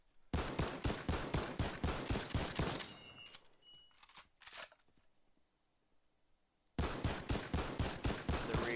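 Full-auto infantry rifle in a Simpsons-season shooter video game, fired in two sustained rapid bursts with a short pause between them, loud and close, with a few faint clicks and scrapes in the gap.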